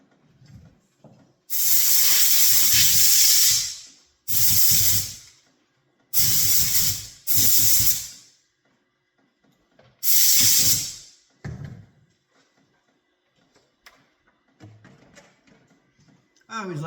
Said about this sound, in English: I always like to start with the compressed air.